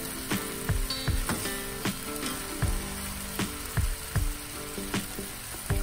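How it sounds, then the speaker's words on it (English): Chicken chow mein noodles being stir fried with sauce in a pan, a low continuous sizzle broken by repeated spaced clanks and scrapes of tossing, close and alone. "add our flavorful sauce and stir fry all the ingredients for at least 2 to 3 minutes"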